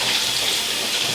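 Hot tap water runs steadily into a bathroom sink, a continuous close hiss and splash with no voices over it.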